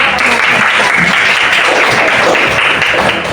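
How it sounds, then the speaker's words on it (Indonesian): A class of schoolchildren claps together in a classroom, loud and sustained, a dense even round of applause from many hands close by. "Tepuk tangan."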